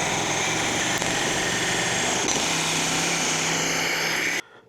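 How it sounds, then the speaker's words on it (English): A jigsaw cuts a custom metal vent with a loud, steady high-pitched buzzing whine that runs continuously and stops abruptly near the end. "just run the jigsaw around"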